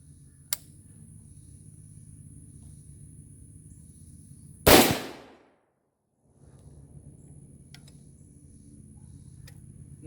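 An AR47 rifle fires a single sharp, close, loud shot. The blast cuts through a quiet background hum, with a few faint clicks before and after it.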